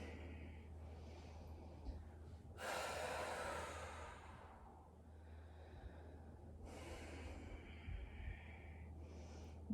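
Slow, audible breaths during a seated leg stretch holding a towel behind the leg: a long rushing exhale, a pause, then another breath, close and soft over a low steady hum.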